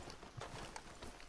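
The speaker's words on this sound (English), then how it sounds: "Get that horse out of here." Horse hooves clip-clop in Red Dead Redemption 2, a quick, soft patter of irregular hoofbeats at moderate distance with faint background murmur.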